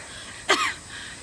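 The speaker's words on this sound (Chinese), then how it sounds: "妈，你怎么还咳嗽这么厉害呀？" A woman with a long-standing chronic cough gives a single short, harsh cough, close by, followed by a brief rasping tail in an otherwise quiet room.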